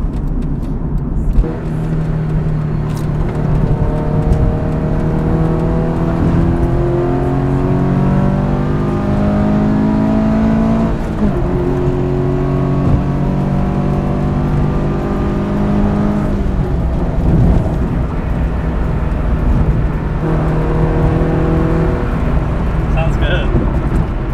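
A naturally aspirated car fitted with a drop-in intake filter and inlet tube accelerates on the freeway, its engine note climbing through several rising revs and shifts, loud and close from inside the cabin, with a voice speaking over it at times.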